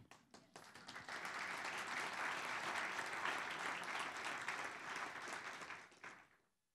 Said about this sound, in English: you should give yourself an applause for that